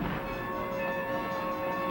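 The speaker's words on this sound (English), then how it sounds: "It's the alarm bell, Mrs. Varney," A steady ringing alarm bell calling out the reserves during a Civil War stage drama, a sustained clanging tone that stays even and continuous throughout.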